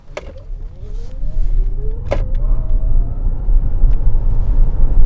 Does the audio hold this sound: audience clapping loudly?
no